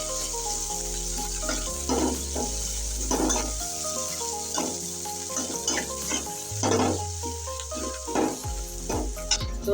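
Chopped onion and green chillies sizzle in hot oil in a small pan, a loud steady frying hiss broken by repeated scraping stirs and clatters of a utensil against the pan.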